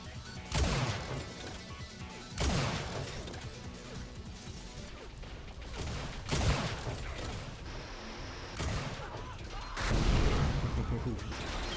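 Repeated rocket launcher blasts in Unreal Tournament, four or five loud explosive bursts spaced a couple of seconds apart over a continuous backdrop of game noise.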